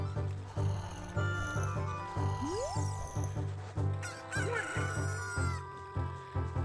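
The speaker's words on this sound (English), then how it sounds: "That's now hatched into a chicken." A chicken hatched from an egg in Zelda Ocarina of Time on the 3DS clucks and crows repeatedly, up close and clear, over a rhythmic looping game soundtrack.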